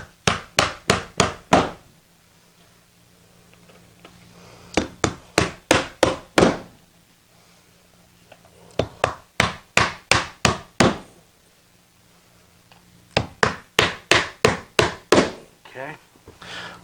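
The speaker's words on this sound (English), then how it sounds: "Now I want to put some of the longer nails that they will go all the way through the tack strip and the shim and reach the subfloor." A hammer drives long nails through tack strip and shim into the subfloor, sharp strikes in four rapid bursts of about five or six blows each, with quiet gaps between bursts.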